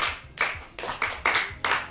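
A small group claps in a Yoruba storytelling program for children, giving about six sharp, close claps in a loose, uneven rhythm over two seconds.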